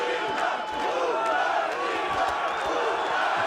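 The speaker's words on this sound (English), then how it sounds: "You can hear the local crowd as well." A local crowd at a team boxing match between Ukraine Otamans and Astana Arlans in Kazakhstan, producing a dense, continuous roar of cheering and shouting with no pauses.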